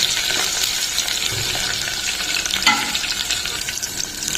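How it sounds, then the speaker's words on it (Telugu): Onions frying in hot oil, a loud, continuous close-up sizzle with a brief scrape of stirring partway through, for a tamarind-leaf dal dish. "ఆనియన్స్ కూడా వేగిపోయాయండి."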